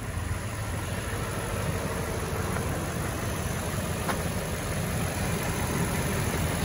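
A 2018 Toyota Tundra CrewMax 1794 Edition 4x4 with a 5.7-liter V8 idles steadily, a continuous low engine hum and faint vibration with no talk over it.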